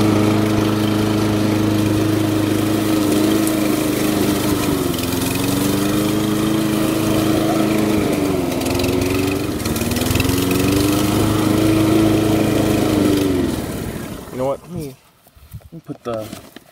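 A Toro Recycler lawn mower engine runs loudly and steadily up close while mowing dry leaves, its pitch wavering slightly, then cuts out abruptly near the end, leaving scattered quieter noises.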